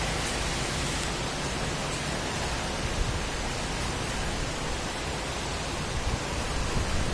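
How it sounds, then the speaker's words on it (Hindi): Steady rain falls in the hills of Uttarakhand as a constant, dense hiss with no breaks, close and even throughout, with no voices over it. "जी आप देखिए बारिश।"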